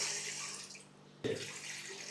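Water poured into a cooking pot on a stove in a guest house kitchen, a faint splashing stream that pauses briefly and then resumes with a louder gush, close and quiet, with no talking.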